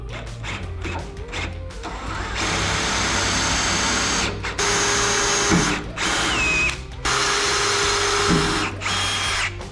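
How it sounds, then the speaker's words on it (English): A power drill whines and grinds as it bores through a steel drill guide on a Corvette drift-car build, running loud in several long bursts separated by brief pauses, heard close with no talking. "Tighten it down and then drill through it."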